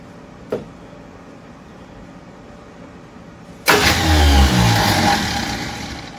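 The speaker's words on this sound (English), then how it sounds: "See if she cranks." A starter cranks an old classic car engine that sat forgotten in the Maine woods for years. A single click comes first, then a loud, sustained grinding churn that runs close and steady to the end.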